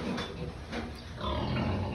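Grunting from a pig on a farm, close and steady over a low rumble of barn noise, with a few brief louder snorts and no talk.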